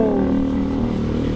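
Motorcycle on a muddy trail, a close loud engine drone with rattling and scraping as it moves along, brief and continuous.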